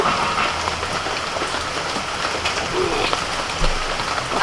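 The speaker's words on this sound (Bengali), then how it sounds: "হচ্ছে একটানা বৃষ্টি হয়ে যাচ্ছে" Steady rain falls continuously on a rainy day outdoors, a dense even hiss with a faint bird call or two in the background and no talking.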